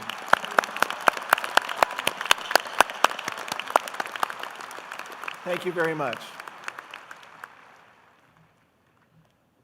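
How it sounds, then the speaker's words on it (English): Audience at a spring university commencement ceremony applauds medical students receiving their MD degrees, a dense sustained round of clapping that fades out near the end, with someone briefly speaking over it. "Please join me with a round of applause in recognition of our medical students and their achievements to receive the MD degree"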